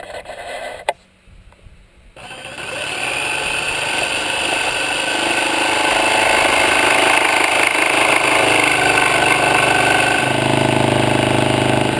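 A power saw with a down-cutting blade cuts along a line during a teardrop trailer build: after a quiet start it spins up into a loud, sustained whining roar that holds to the end.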